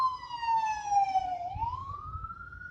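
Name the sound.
ambulance siren passing by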